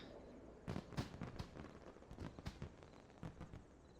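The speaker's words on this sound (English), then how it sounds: "Pandaren fucking fireworks are way better" A Pandaren fireworks toy in World of Warcraft goes off in a quick series of sharp crackling pops and bursts, about a dozen over a few seconds, fairly close and moderately loud.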